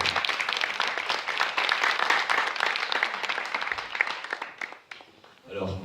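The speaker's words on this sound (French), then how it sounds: "peux applaudir Nacera, s'il vous plaît?" An audience applauds a woman brought up beside a French performer on stage, fairly quiet, rapid scattered claps that thin out and fade near the end as a voice comes in.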